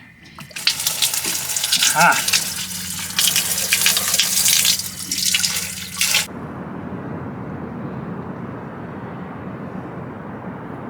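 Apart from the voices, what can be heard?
water being pumped from one boat tank to another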